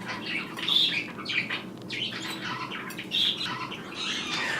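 Pet budgies chirping indoors in a busy flock, with bright overlapping tweets and squawks, close and continuous without talk.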